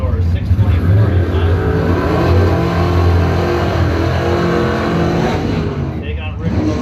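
A 1970 Camaro drag race car idles and revs at the strip, a loud, rough engine note that swells and falls, heard under a public-address announcer talking.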